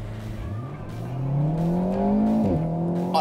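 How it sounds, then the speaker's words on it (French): A turbocharged car engine revs and accelerates hard from a standing start on an airstrip, pitch climbing steadily before a brief gear-shift dip, loud and close throughout. "on va essayer un petit départ arrêté"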